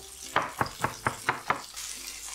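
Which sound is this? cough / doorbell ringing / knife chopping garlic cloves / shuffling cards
knife chopping garlic cloves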